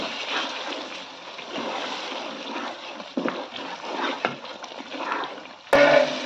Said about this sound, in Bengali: এখন আমি নিজের হাতে বানানো সেই টক দই দিয়ে দেব। এটা দিয়ে দিলাম, দিয়ে ভালো করে নেড়ে নেব।